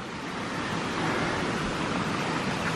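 A river flowing over rocks, heard up close as a continuous loud rush of water with no talking.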